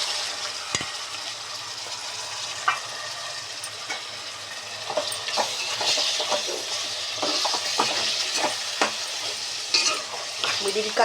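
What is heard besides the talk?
mutton being stirred and fried in a pan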